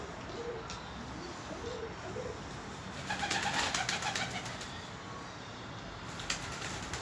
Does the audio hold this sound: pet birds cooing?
yes